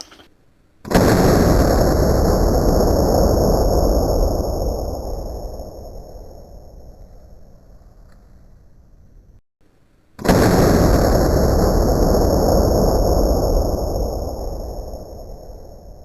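Two loud, abrupt bursts from an AEA Megalodon airgun firing hollow point bullets, each with a broad blast that slowly decays, separated by a brief gap of quiet.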